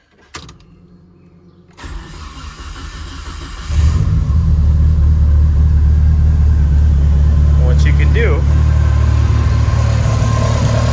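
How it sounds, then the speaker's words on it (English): A car engine cranks and catches, settling into a loud, steady idle rumble; a brief voice is heard early on before the running engine dominates. "But start the car."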